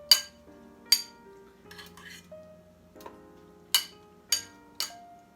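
Baked cauliflower tossed with orange sauce in a bowl, giving about five sharp, separate clinks of a utensil against the bowl with softer scraping between them, close and clear over a faint steady hum.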